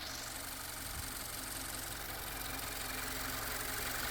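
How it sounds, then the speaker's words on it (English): A 2025 Subaru Forester engine idles cold, a steady, even mechanical drone with a faint rhythmic knock running unbroken and close throughout. "That engine has not got warm enough yet"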